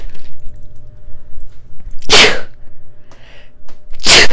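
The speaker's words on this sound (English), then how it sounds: "Gosh, I've been sneezing lately." Two loud, close sneezes, roughly two seconds apart, break a quiet room.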